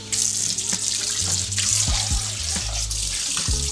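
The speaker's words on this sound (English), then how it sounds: "rinse that off" Partly frozen meat is rinsed under a running kitchen tap. Water streams and splashes loudly into the sink, with thumps and knocks from handling the meat.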